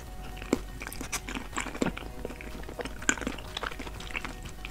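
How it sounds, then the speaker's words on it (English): Close, crisp bites and crunching chews on edible pink champagne bottles and hairbrushes, irregular sharp cracks over quiet mouth sounds, recorded intimately for ASMR. "In the video, pink champagne bottles and hairbrushes are consumed"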